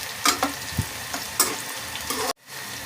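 Okra (bhindi) sizzling as it fries in a pan, with steady crackle and several louder stirring bursts before the sound cuts out abruptly near the end.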